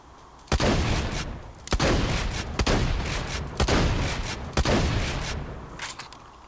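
Rapid in-game gunfire from a fast-shooting weapon in Borderlands 2, with about five heavy booming bursts roughly a second apart over a continuous loud roar of shots and explosions.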